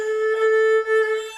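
An erhu bowed with an unclean, slightly rough tone holds one sustained note with strong harmonics and a brief dip near the end. It sounds solo, close and loud, with no talking.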